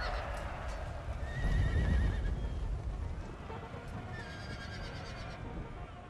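Cavalry horses whinny in a Napoleonic-era battle in the strategy game Napoleon: Total War, with hoof clatter and a swell of charging rumble midway, all at moderate volume and without speech.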